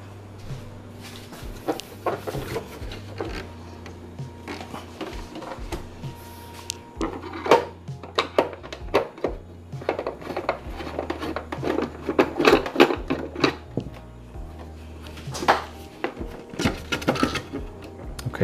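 A Breville Barista Express BES870XL espresso machine being tilted and unscrewed gives off scattered clunks, taps and metallic rattles of handling, close by and irregular, over a low steady hum.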